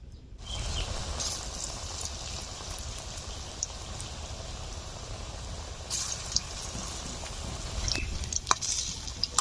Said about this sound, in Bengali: বাদবাকিগুলো ভেজে নিচ্ছি।